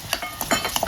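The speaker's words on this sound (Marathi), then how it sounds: "आता हे तुपावर मिरची छान परतून घ्यायची." Green chillies and boiled potatoes sauté in ghee, a soft sizzle broken by quick stirring scrapes, close and brief.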